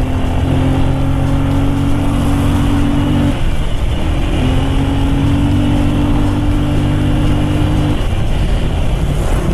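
A Rusi Gala scooter engine being ridden and throttled, a loud, steady, close drone whose pitch holds, then breaks briefly twice as the throttle eases and picks up again.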